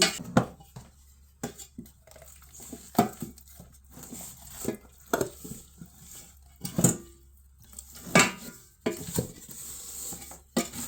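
Onions stirred in a cooking pot with paprika, a spoon scraping and knocking against the metal in irregular strokes over a low sizzle, close by and moderately loud.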